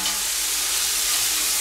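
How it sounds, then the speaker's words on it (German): Chopped onions frying in a pot for a canned pumpkin and vegetable cream soup give off a steady, close, dense sizzle that runs unbroken with no talking. "Und werden die Zwiebel etwas anrösten, dass er seine Röstaroma gibt."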